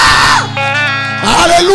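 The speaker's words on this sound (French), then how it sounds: "Est-ce que tu peux pousser des cris de joie?" A church congregation shouts and cries out with joy during a service, a loud sustained crowd yell with voices rising and falling.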